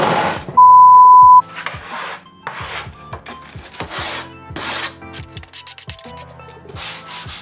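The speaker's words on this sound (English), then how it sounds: "now I just need to take these and sand them because they're a little rough and coarse" Rough wooden frame pieces for a contemporary canvas frame being sanded, with repeated close scratchy rubbing strokes in an uneven rhythm and a brief steady tone near the start.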